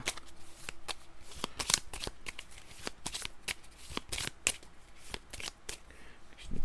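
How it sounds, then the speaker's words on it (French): A deck of cards for The 7th Continent board game is shuffled by hand in a series of quick riffling bursts, close and fairly quiet, with a few sharp card snaps between them. "On va le rebrasser."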